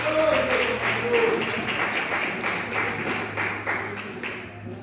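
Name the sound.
congregation applause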